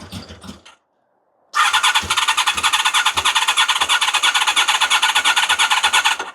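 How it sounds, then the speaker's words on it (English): A Honda motorcycle engine running rough on choke as it tries to idle: after a short pause it catches and settles into a loud, uneven, pulsing run that keeps surging and stumbling for about five seconds. "Can we get it to idle? We get a bit more choke."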